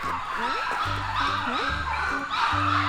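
A small dog whimpers and yips in short, rising squeaks, nearby and insistent, against a steady background hum.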